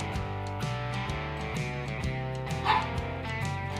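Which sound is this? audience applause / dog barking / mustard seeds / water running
dog barking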